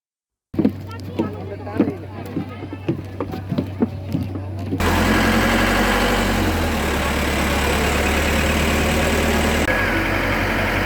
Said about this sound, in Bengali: নৌকায় করে এপার থেকে ওপার যেতে সময় লাগবে দশ মিনিটের মতো